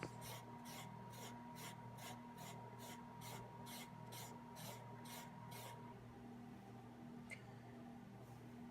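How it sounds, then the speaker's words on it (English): Wet leather edges sanded by hand with 400 grit sandpaper: a dozen even, rhythmic rasping strokes close up, then a pause with low background hum. "wet the edges down, and hit them with 400 grit sandpaper."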